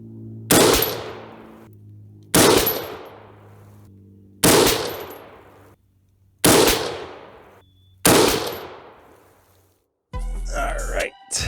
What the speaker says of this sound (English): So I'm going to shoot one last 5-shot group.